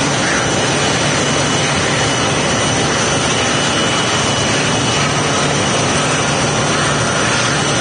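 A jet airliner at Phoenix Sky Harbor Airport gives off a loud, steady, broadband engine roar that fills the whole stretch without a break, with no talking over it.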